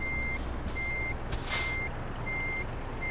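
A truck reversing in Euro Truck Simulator 2, an Iveco rig backing up a trailer, gives a steady series of evenly spaced electronic beeps over a low engine rumble, with a short hiss of air partway through.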